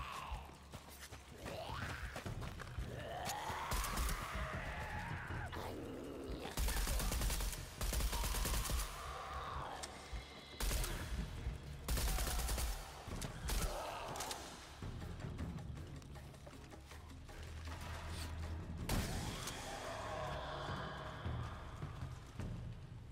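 Gunfire in the jungle setting of Shadow of the Tomb Raider comes as repeated heavy blasts and volleys in clusters over a busy game soundscape, some close and loud, with quieter stretches between them.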